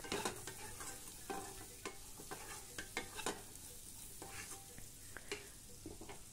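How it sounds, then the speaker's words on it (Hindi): Water chestnut chaat mixed with spices is roasted in a pan over a low gas flame, with repeated scraping stirs and soft clicks over a gentle, steady sizzle. "इसको हम मिक्स कर देंगे और धीमी धीमी गैस पर ही इसको हमको भूनना है"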